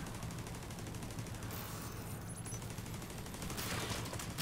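Gunfire from the shooter video game Division 2 during a Tidal Basin legendary mission, with dense rapid bursts rattling continuously at moderate loudness throughout, no voices heard.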